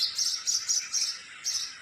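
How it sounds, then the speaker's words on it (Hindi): Morning birdsong rings out near a house: a rapid series of bright, high chirps repeats in quick bursts, close and clear with no talking. "सुबह सुबह का चिड़ियाओं का चहचहाना बहुत अच्छा लगता है।"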